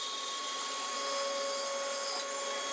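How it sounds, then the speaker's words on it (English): A band saw runs with a plywood sled, its steady, even whine and hum holding close and unbroken throughout, with no voices. "I put the sled on the bandsaw and cut almost all the way to the double piece of plywood."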